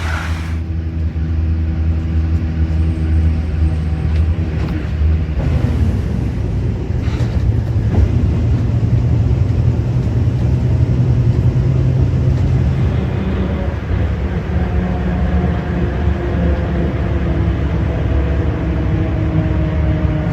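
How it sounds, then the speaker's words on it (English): A bus rides through the streets of Yakutsk, Russia, with a loud steady engine rumble and road roar throughout, its pitch shifting as it changes speed, with no one speaking. "And now let's switch the location by taking the bus."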